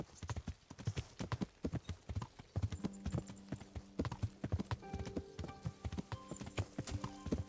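Horse hooves clip-clopping at a steady riding pace in the video game Kingdom Come Deliverance, clear and rhythmic, with a soft tonal game sound rising in the background partway through.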